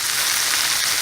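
Chopped peppers and onions fry in hot oil on high heat, a dense, even sizzling hiss that stays loud and close without a break.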